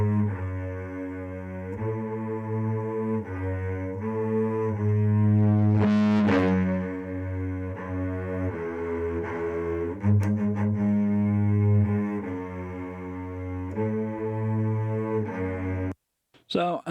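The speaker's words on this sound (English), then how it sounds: "just banged it up full, and you can hear that it's really distorting" Strings and keyboards in a metal mix are pushed through the Studio One Light Distortion plugin turned up full, giving a sustained gritty, saturated tone with a short dropout near the end.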